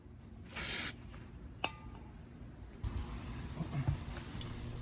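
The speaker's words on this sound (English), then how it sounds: "Here you can see me spraying some brake cleaner on a clean piece of paper towel." A short, loud aerosol burst of brake cleaner onto a paper towel in a garage during valve cover gasket work on a 2003 Mitsubishi Lancer ES, a single hiss of about half a second followed by faint handling noises.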